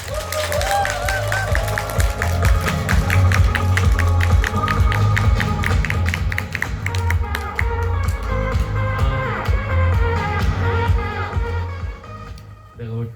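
Sustained audience applause and claps as a guest walks onto the stage at a business lecture event, a steady wash of clapping over loud background music with a thumping low beat, fading near the end.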